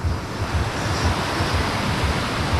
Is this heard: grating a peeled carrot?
no